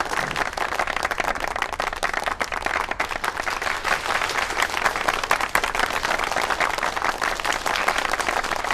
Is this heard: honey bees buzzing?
no